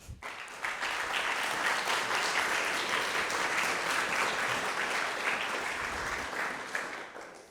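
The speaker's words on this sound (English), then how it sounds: "Thank him once more with an applause." Sustained audience applause at an academic conference opening in Vienna, a dense steady clatter of many hands filling the hall for several seconds before tapering off.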